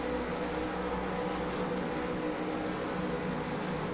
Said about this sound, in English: We're going to get the revs rising here.